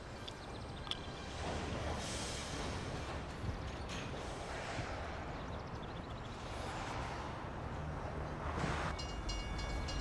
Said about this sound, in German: Cool, der erste fette Zug, den man sieht.